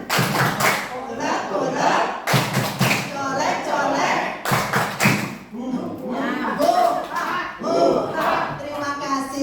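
Group of people clapping together in the Tepuk Sambal clapping game, sharp rhythmic claps in bursts alternating with a leader's chanted calls, close and loud.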